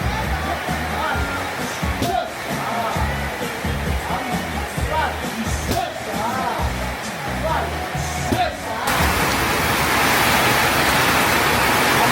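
Heavy rain pours down steadily during a storm in Bangkok, a dense loud rush of water that swells even louder toward the end, with people talking over it.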